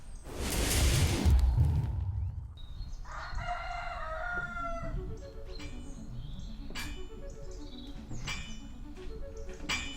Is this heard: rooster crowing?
yes